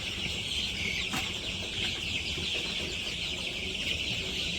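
Chickens cluck in a village coop, several birds clucking continuously at moderate distance with occasional wing flutters, no talking.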